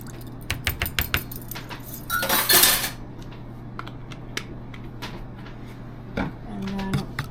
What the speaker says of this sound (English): And then whisk that all together. And I'm just using a fork.